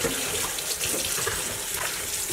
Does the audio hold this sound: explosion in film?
no